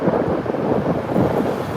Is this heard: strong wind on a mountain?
yes